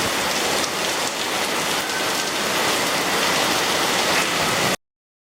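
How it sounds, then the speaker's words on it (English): Heavy rain pours down in a dense, even hiss that stays close and loud for nearly five seconds, then cuts off abruptly. "But the rain is not going to stop today, I think."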